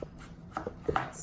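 A kitchen knife cuts into an onion on a cutting board, a few quick irregular taps and slices close by over about a second, no speech.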